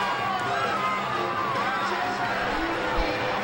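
A wrestling arena crowd rises and cheers for a tag team entrance, a steady dense roar of many voices with music blaring beneath, continuous and fairly loud throughout.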